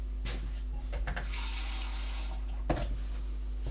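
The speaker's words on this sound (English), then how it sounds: "I'm going to add some water." Water poured onto fruit in a small cup blender, a brief hissing splash at close range that swells for a couple of seconds with mild clatter around it.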